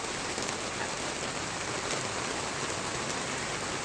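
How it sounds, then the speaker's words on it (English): Heavy thunderstorm rain pounds steadily on a tent roof near Kalgoorlie, a dense, unbroken roar of drumming drops close overhead with no voices. "hide from this soaking rain that's about to hit us. Well, you can hear, on hear it on the tent now."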